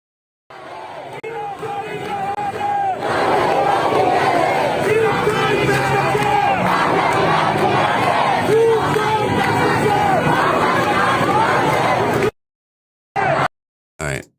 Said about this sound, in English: Huge crowd is chanting, "This is the final battle. Pahlavi will return."